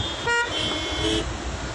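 Slow, nearly stopped road traffic on the way toward Panvel, with a steady low rumble of engines and a brief car horn honk cutting through partway along, no talking.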